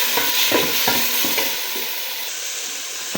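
Onion and tomato sauté in a hot pan with a loud, close hiss. Quick clattering strokes of a spoon come in a burst at first, then ease into a steady sizzle.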